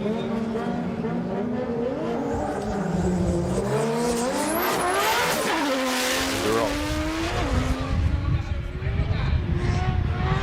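Drift cars run at full throttle at Fuji International Speedway during a competition battle, engines screaming and bouncing off the limiter with tire squeal, loud and sustained, while a commentator talks over the action.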